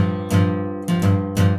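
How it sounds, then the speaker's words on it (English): Acoustic guitar sounding three strummed bass-string hits on the low 6th, 5th and 4th strings, close and full, each ringing briefly before the next. "you're strumming the 3 bass notes on this"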